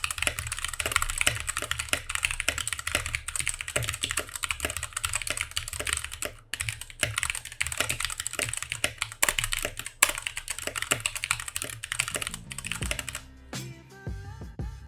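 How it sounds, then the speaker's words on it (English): Rapid, steady keystrokes on a Blitzwolf mechanical keyboard, close and crisp, clacking continuously for about thirteen seconds before the typing stops near the end. "Let's do a quick type test to see how it sounds."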